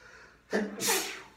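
A single short sneeze bursts out with a quick gasping intake, then a louder breathy release, fairly close in an otherwise quiet room during a sermon.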